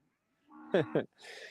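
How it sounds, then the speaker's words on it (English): Cattle being moved to a new paddock on a cold, wet morning: two close, short moos in quick succession, followed by a breathy exhale, in otherwise quiet surroundings. "So the cows are coming on up here."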